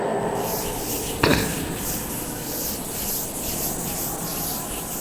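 Steady rubbing and scraping as writing is wiped off a classroom board, a soft continuous swishing with one brief knock near the start.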